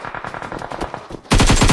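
Gunfire in the video game BGMI: scattered rapid shots give way to a loud, sustained automatic burst firing close by, with no talking.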